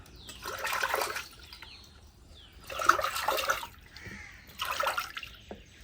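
Plain water poured out of a soapstone pot into a yard, three separate splashing pours with short gaps between them, close by and alone.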